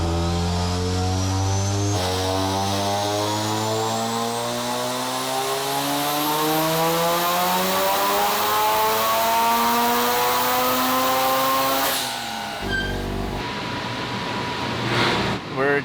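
A rotary-engined Corvette running on a dyno under boost, its engine note climbing steadily to a screaming peak for about ten seconds before cutting off abruptly, loud and close with no speech.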